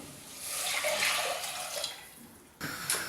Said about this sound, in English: Now in with some water.